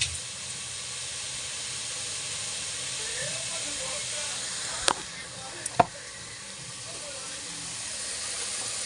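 Fish curry ingredients with tamarind, chilli powder, salt and green chillies sautéing in a pan give a steady, close sizzling hiss throughout, broken by two sharp clinks near the end.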